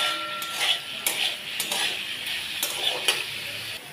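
Soybean chunks with soy sauce frying in a pan, a soft sizzle under repeated metallic clinks and scrapes of a spatula stirring, close and irregular, with no talking.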